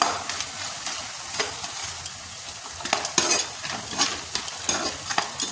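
Nimki dough pieces frying in hot oil in a kadai over a low gas flame, a steady close crackling sizzle with occasional louder pops and brief clinks, no voices.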